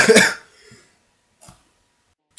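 A single harsh cough up close, followed by a faint breath and a small throat sound in an otherwise quiet room.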